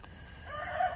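A rooster crows among a flock of chickens on a farm just after a hurricane, the call rising over a low steady background and swelling louder toward the end of the short burst.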